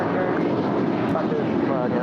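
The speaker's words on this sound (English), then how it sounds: "And here we have United 1276 off to Cancun. It's a 14-year-old 737-900 ER." A 14-year-old United Boeing 737-900ER airliner taking off from LAX, its broad engine roar filling the air steadily and loudly throughout, with no clear peaks, and voices talking faintly beneath it.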